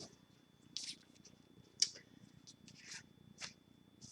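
Thin layers of a paper napkin being peeled apart, soft crinkly rustles in short bursts against a quiet background, close and faint, no talk.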